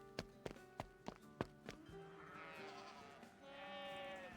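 Sheep bleating in a pasture in the video game Love and Deepspace, with a series of sharp tapping steps at first, then drawn-out wavering bleats, faint and near.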